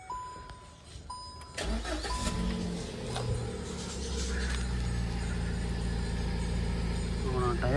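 A car idles through its repaired exhaust silencer, the engine cranking and catching partway in, then running in a steady, moderately loud idle close by.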